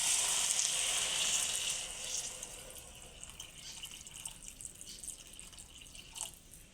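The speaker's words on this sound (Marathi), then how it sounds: "आता आपण त्याला शिजण्यासाठी थोडं पाणी घालणार आहे यात" Water poured from a vessel into a pan of frying cluster beans with chutney and salt, starting as a bright splashing pour and a hiss that settle into a quiet simmer.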